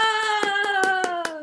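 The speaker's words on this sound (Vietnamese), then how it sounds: "Vỗ tay, vỗ tay" Quick run of about five evenly spaced hand claps at a casual sing-along, ringing over a steady sustained sung or hummed tone.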